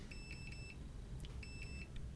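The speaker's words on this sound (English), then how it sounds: "If there's continuity, it beeps." Multimeter continuity tester beeping while probing the pins of a Nintendo 64 Rumble Pak, two short bursts of high tone separated by a pause, quiet and close, with no talk.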